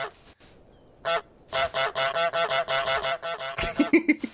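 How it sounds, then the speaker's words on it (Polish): A cartoon goose in a goose video game honks repeatedly, a quick run of loud nasal honks in an even rhythm after a couple of isolated ones, with a few game sound effects at the end. "mogę nacisnąć X, by gęgać"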